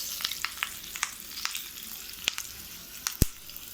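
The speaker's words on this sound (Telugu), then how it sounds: "ఇందులో కరివేపాకు వేసుకుంటున్నాము." Curry leaves sizzling in hot tempering oil for coconut chutney, a steady close crackle broken by sharp pops and one loud spit near the end, with no voices.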